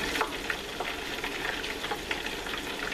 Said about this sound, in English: These chips cook really fast, less than a minute or longer depending on how crunchy you like them